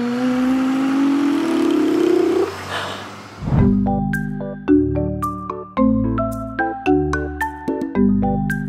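A voice imitates a truck engine in a children's learning song, with a rising, revving hum lasting a few seconds before it gives way to bright plucked musical notes.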